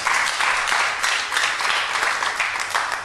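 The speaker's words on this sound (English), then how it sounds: "clap for Master Jesus" A church congregation claps together in a steady, dense wash of applause that holds at an even, fairly loud level for the whole stretch, with no voices rising above it.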